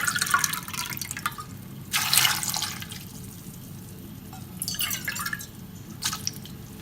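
Water is poured into a pot of cut pumpkin pieces for pachadi, with splashing pours in separate bursts between quieter dripping and a low background hum.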